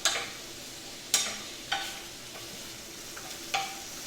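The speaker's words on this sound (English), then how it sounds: "Sizzle good." Food frying in hot fat gives a soft, steady sizzle, with several sharp stirring clacks spaced about a second apart and no talking.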